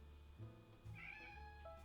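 A cat gives two or three short, soft meows, quiet and fairly close, with low ambient hum behind.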